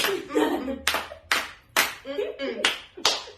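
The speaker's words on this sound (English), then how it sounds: "I just feel like clapping for myself and ourselves." A few sharp, loud hand claps from a podcast host celebrating an award, spaced about a second apart, with a person speaking and laughing between the claps.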